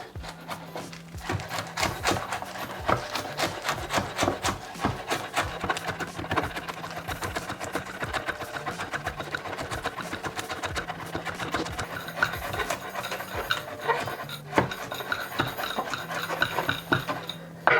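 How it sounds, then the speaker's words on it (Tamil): A knife finely chops curry leaves with rapid, continuous close taps that run steadily for almost eighteen seconds over a faint low hum. "இதே மாதிரி இனி கருவேப்பிலையையும் நல்லா அரிஞ்சு கட் பண்ணணும், பெருசு பெருசாக இருக்காமல்"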